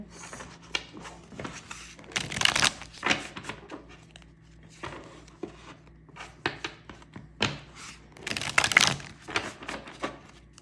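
Tarot cards being shuffled, giving bursts of soft riffling and tapping at irregular intervals, moderately close, with quiet gaps between handfuls and no talking.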